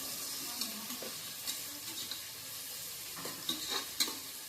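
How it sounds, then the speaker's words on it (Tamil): Green chillies sauté in a pan for vegetable biryani, giving a steady close sizzle and hiss with occasional soft scrapes and taps from stirring, and no voices. "ரெண்டு பச்சை மிளகாய் போட்டு நல்லா வதக்கிடுங்க"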